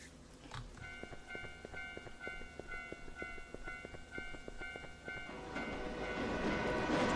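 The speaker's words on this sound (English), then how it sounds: "Bro, there's the freaking train" A train rolls past in the Japanese horror game Teke Teke: Moonlit Dread, its wheels clacking in a steady rhythm over sustained tonal hums, then a louder rushing rumble builds at the end, with no talking.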